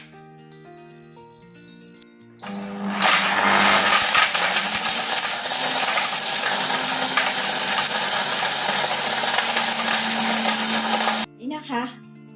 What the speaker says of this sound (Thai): เดี๋ยวเรา เอาไปปั่น กับเครื่องปั่น